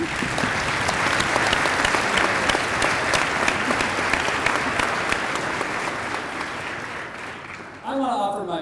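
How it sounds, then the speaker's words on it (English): Indoor audience applause from a large crowd at an event, a dense, steady wash of clapping that carries on for several seconds before fading, then a voice begins speaking near the end. "invite you to join me in giving another round of applause to all those who spoke"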